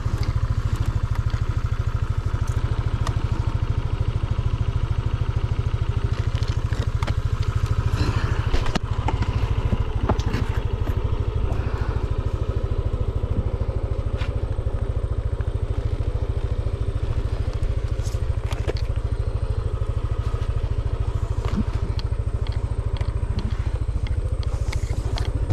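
A dual sport motorcycle, its engine dusted with sand, runs steadily and loudly throughout, with a low continuous drone and occasional clatter and crackle, with no talking.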